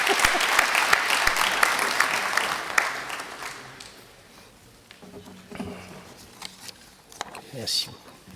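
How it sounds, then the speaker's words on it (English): An audience at a conference session on traveller identification and risk assessment gives a warm round of applause. The dense clapping is loud at first, fades away after a few seconds, and leaves scattered room noise. "I would ask for a very warm hand of applause for Vijay Pudusamy."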